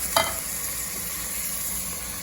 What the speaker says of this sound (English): We'll throw in our beef as well. So the ground beef goes in.